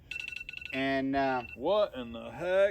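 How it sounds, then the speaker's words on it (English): An alarm rings in a quick burst of rapid, bell-like electronic trills at the start, then gives way to people talking. "that was our alarm"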